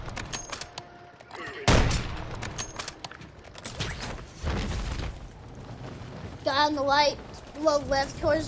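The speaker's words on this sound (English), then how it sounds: "he's shooting at me" Enemy gunfire in Call of Duty, a few loud booming shots and scattered bursts among game sounds, with a voice speaking over part of it.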